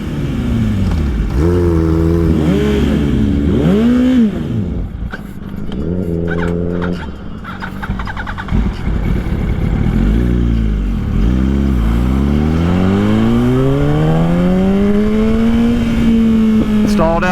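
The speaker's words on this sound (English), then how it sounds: "This is my boy's Kawasaki ZRX-10R. It's my R1 right here. Let's ride" A Kawasaki ZRX and a Yamaha R1, both litre-class motorcycles, rev loudly up close with rising and falling engine pitch, repeated throttle blips, then one bike pulls away in a long climbing drone.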